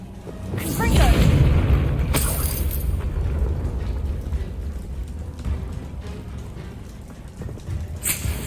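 A Confringo fire spell explodes in Hogwarts Legacy with a loud deep boom near the start that rolls into a long rumbling tail, followed by fainter crackling debris and a brief sharp hit near the end.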